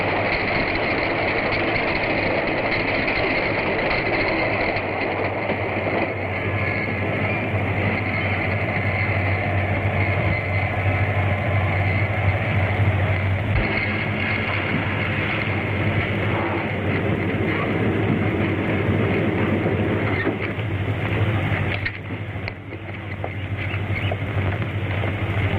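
A train running on rails in a radio drama sound effect: a steady rhythmic clatter and engine chug, continuous and moderately loud, with a brief dip near the end.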